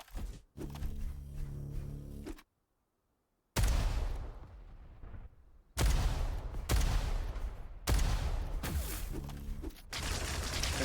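Sharp game weapon shots in Diabotical, a railgun among them, crack out in separate loud bursts between sudden gaps of silence, punchy and close with metallic impact tails.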